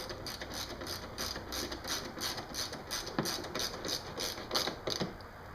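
A ratchet tightens a small 10mm bolt on an HFP rear underbody spoiler, giving a steady run of close, crisp metallic clicks in even repeated strokes, with no voices.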